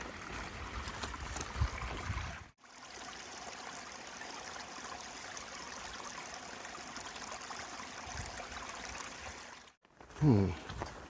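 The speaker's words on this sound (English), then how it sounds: "looks like we got another little stream crossing" A small creek at a stream crossing on the Appalachian Trail flows with a steady, close rushing wash that fills the whole stretch, with a brief soft knock near the end.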